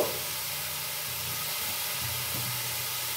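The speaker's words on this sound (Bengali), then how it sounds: "এবারে চাপা খুলবো, আমি চাপা খুলে করে আরো 2-3 বার নাড়িয়ে দিয়েছি" Steam hisses steadily once the lid comes off a pan of ridge gourd sabzi, a continuous moderate rush with a faint low hum beneath and no talking.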